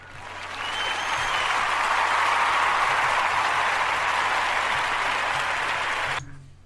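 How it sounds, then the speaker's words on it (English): A crowd at a DJ performance breaks into sustained applause, swelling quickly and holding steady for several seconds before cutting off abruptly. "So let's give Diego a round of applause"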